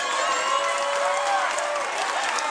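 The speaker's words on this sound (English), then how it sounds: "y'all clap your hands one time for both of the fighters in this cage" Crowd at a cage fighting event clapping and cheering for both fighters, a dense wash of applause and shouts filling the short moment at steady volume.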